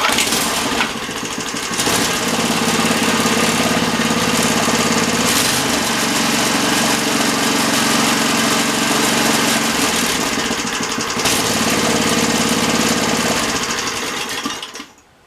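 A McClain edger's small engine runs at half throttle, a loud, steady, rough buzzing drone close by with a brief dip early on, winding down at the very end.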